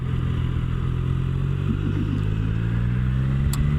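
The engine of a Triumph Tiger 660 Sport motorcycle pulls from third gear, a loud, steady drone rising smoothly in pitch under wind rush, with no talking.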